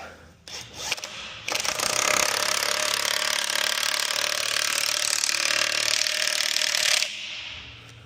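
A tool works steadily on a part of a Lil Herc during greasing and tightening, a loud continuous mechanical grinding-ratchet noise lasting about five and a half seconds, close up, with no talking.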